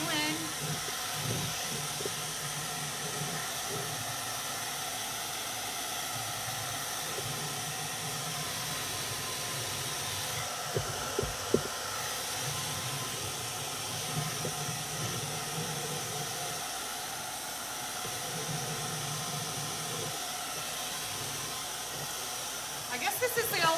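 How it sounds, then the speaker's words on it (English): A blow dryer blows continuously while drying black paint on a wooden nativity yard decoration of a shepherd with staff, a steady close hiss lasting over twenty seconds with a voice talking faintly underneath. "So now I have to use the blow dryer."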